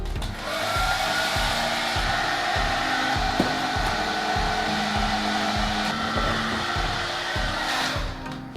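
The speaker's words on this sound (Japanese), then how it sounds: "こっちの方にドライヤーが入ってるので熱風を送ってこの段ボールの中で乾燥させます。" A hair dryer blows hot air into a cardboard box in a garage, a steady broadband whoosh with a low pulsing rumble, continuous and close for the whole stretch.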